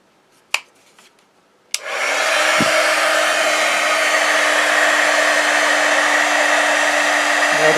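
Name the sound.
heat gun running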